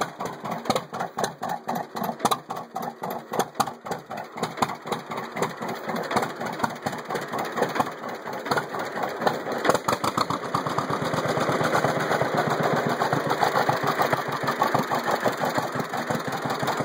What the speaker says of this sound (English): They're a large bore two-cylinder engine.